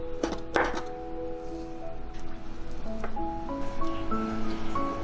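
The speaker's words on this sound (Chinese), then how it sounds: "泡好的香菇给它切成小丁" Knife chopping soaked shiitake mushrooms into small dice on a board, with a few sharp thuds early on, then a softer background while tonal music plays over it.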